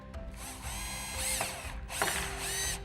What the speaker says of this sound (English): I'm going to drill through just a little bit, so just to find my screw